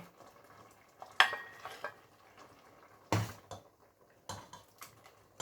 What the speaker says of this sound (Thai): เดี๋ยวจะมาตักใส่ถ้วยให้ดูนะเพื่อนๆ